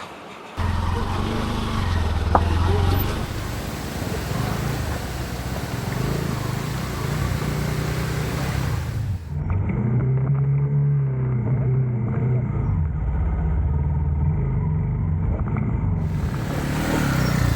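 A vehicle labours along a rough, unsurfaced off-road track, its engine droning loud and steady throughout with rumbling and jostling noise, briefly muffled partway through.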